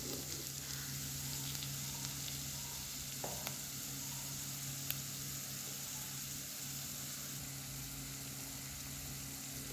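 Spices for a mango curry fry in a pan with a steady, soft sizzle and crackle under a low hum, continuing evenly throughout with a few small clicks.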